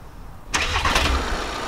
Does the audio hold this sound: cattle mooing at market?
no